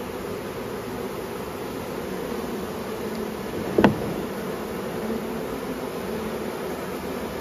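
Honey bees fanning at the entrance of a hive during a spring swarm catch, a steady, soft hum close by with one brief sharp knock partway through and no talking.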